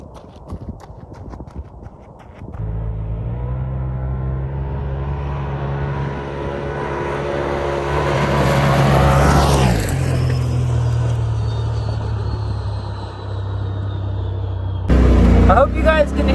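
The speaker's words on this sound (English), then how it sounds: "we'll get a little bit of an acceleration video and a flyby" A 2020 Polaris RZR Turbo S engine winds up loudly as it accelerates and roars past up close, the pitch swooping down as it passes before settling into a steadier drone.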